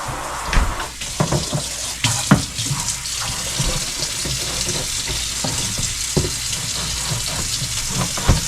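Water trickles and drips from a small drain hole in the nylon fabric pad of a smart cat litter box, a continuous close splashing with occasional louder drops and no speech.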